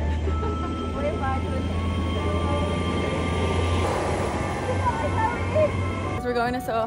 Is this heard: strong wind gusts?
no